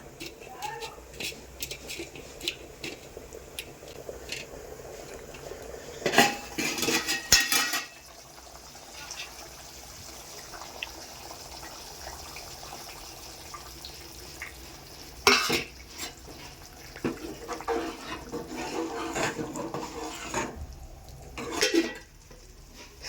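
Clove and pepper paste is stirred into a simmering fish curry in a pan, with intermittent scraping and clanking of a spoon over a low bubbling sizzle, while a voice talks at times.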